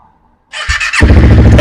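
After a battery change, a Honda CBR250RR motorcycle engine starts in one go: a brief whine of cranking, then the engine catches and settles into a loud, close, steady idle, with no talk.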